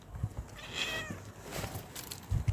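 Cat meowing close by, a drawn-out plaintive meow in the middle with softer calls and a few bumps and handling noises around it.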